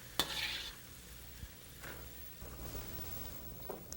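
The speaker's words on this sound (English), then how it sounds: "Let's take them out of the ghee." Golden brown potatoes are lifted out of hot ghee, with a soft frying sizzle, a few scraping and clinking knocks of a utensil, and a low background hiss. The sounds are fairly quiet and close.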